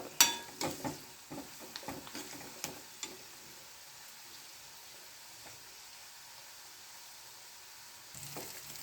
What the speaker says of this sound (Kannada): ಇದೆಲ್ಲ ಚಲೋ ಫ್ರೈ ಆಗೋದು.